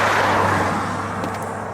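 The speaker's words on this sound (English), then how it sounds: "That car was probably doing 50 miles an hour." A car passing by at roughly 50 mph on an open road, a steady loud broadband whoosh with a low engine hum that holds through the short moment, no voices.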